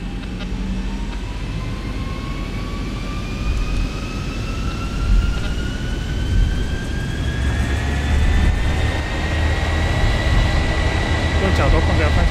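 A Boeing 737-800 jet takes off from Shanghai Hongqiao Airport in the X-Plane 11 flight simulator. Engine roar rises steadily with climbing whine tones, while people talk over it.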